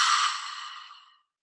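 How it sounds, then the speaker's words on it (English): A single breathy open-mouth exhale during a yoga breathing practice, loud at the start and trailing off steadily over about a second before silence. "Taking a cleansing, open mouth exhale."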